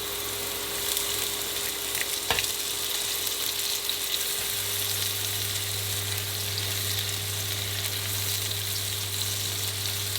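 Ginger, garlic and soaked fermented black beans sizzle steadily in a hot wok for chicken feet steamed with black bean sauce, a continuous soft frying hiss with a brief clink near the start and no talking.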